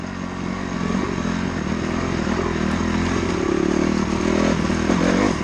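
A dirt bike engine lugging at low revs through a rutted trail, a continuous loud, close throaty drone with rising pushes and rattling clatter, no voices.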